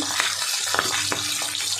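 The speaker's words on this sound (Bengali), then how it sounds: "মাছ ভাজা হচ্ছে, 2টো করে ভেজে নিচ্ছি" Two pieces of pabda fish fry in oil in a wok, giving a continuous close sizzle broken by occasional sharper spatters and pops.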